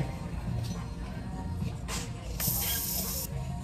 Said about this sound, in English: It sprays really well.